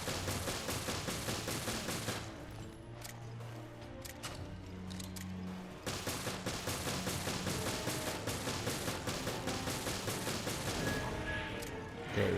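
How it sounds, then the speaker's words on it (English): Rapid machine-gun fire in Resident Evil Revelations, a fast unbroken rattle of shots that runs for several seconds, pauses briefly, then resumes just as steadily, loud and near. "Machine gun power activated."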